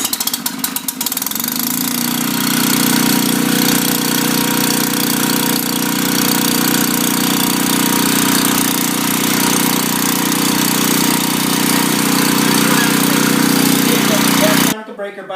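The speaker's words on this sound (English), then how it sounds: "the generator's running upstairs" A portable generator engine runs steadily and loudly for about fourteen seconds with a constant droning hum, powering a house through the breaker box, then cuts off abruptly near the end.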